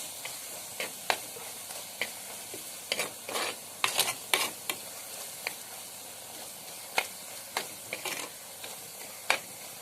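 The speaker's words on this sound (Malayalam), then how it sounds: "നന്നായിട്ട് ഇളക്കി കൊടുക്കുക. ആ എണ്ണയിലൊക്കെ ഒന്ന് കിടന്ന് നമ്മളെ മസാല ഒന്ന് മൂത്ത് വരട്ടെ കേട്ടോ." Masala for a fish chilli curry stirred as it fries in oil in a pan: a soft steady sizzle broken by repeated sharp scrapes of the spoon against the pan, close and fairly quiet, with no voices.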